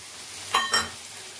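Chopped tomatoes drop into a hot pan for baigan bharta, giving two quick sizzling bursts close by against a quiet background.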